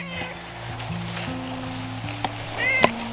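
A garden cat gives a couple of short meows near the end, over a low steady hum and faint background noise, close and fairly clear.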